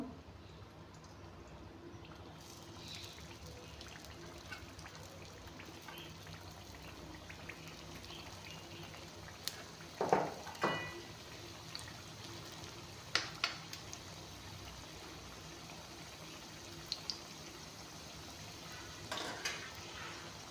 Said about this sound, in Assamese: এতিয়া চিংৰাকেইটা মৰমৰীয়াকৈ ভাজি ল'ম।